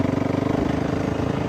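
A motorcycle engine, recorded from the rider's first-person smart glasses during a ride, chugs close by with a fast, even pulsing throb, loud and continuous for the whole moment.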